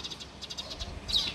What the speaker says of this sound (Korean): 엄마 참새 왔다.